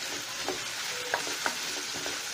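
Chopped ginger and slit green chilies fry in hot oil in a pan, giving a steady close sizzle with a few soft stirring clicks and no voices.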